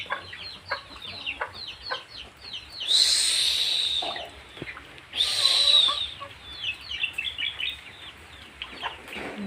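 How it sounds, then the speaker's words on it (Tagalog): Chickens cluck softly and repeatedly nearby, broken by two louder, longer calls that rise above the steady scattered clucking. "Yan po yung mga manok natin"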